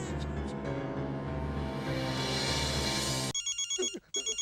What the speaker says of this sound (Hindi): टप्पू का फोन इतनी रात को?